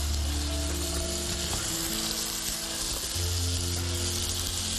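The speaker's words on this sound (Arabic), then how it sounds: "تحميص اللحمة على الجريل" Meat sizzles steadily as it sears in butter on a grill for Bosnian kebab cut into small pieces, a dense continuous frying hiss with no talk over it.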